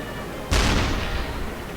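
A single heavy gunshot in the submarine video game UBOAT booms halfway through, followed by a long rumbling echo fading out.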